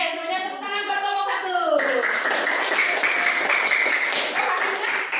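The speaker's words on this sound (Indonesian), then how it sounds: "semuanya tepuk tangan buat kelompok" Classroom of children clapping together for a student group, a dense burst of steady applause that continues throughout; before it, a voice speaks briefly over the room.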